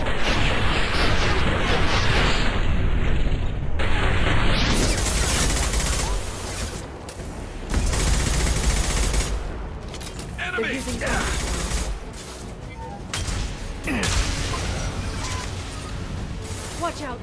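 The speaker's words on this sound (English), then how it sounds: "Watch out! Flashbangs!" Flashbang grenades going off in Mass Effect 2 amid a dense, loud game soundscape: sharp bursts and a rising whine, mechanical clanks and gunfire-like crackles, close and continuous with shifting intensity.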